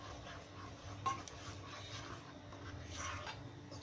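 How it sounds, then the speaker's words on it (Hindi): Shahi paneer gravy with cream and honey stirred in a pan, soft scraping and rubbing of a spoon with a faint clink, quiet and close. "और अच्छे से मिला लेंगे।"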